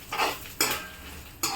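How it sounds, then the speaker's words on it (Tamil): Urad dal and dried red chillies roasting in a pan, with three distinct scraping spatula strokes against the metal over a faint dry sizzle, up close. "உளுத்தம் பருப்பையும் காஞ்ச மிளகாவையும் நல்லா செவக்க வறுக்கணுமாம்மா?"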